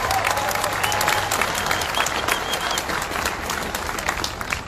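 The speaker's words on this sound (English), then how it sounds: "Let's give a round of applause to Pastor Henry and his church" Audience applause in a church gathering, a lively stretch of clapping from a crowd that carries on steadily for several seconds.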